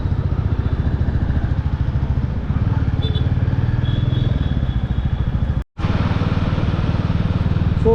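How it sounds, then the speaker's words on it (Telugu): Motorcycle ride on a road toward Pune without mirrors, the engine droning steadily and close throughout with a rumbling pulse, broken by one brief dropout near the end. "సో ఫస్ట్ టైం అనమాట మిర్రర్స్ లేకుండా బైక్ని డ్రైవ్ చేయడం."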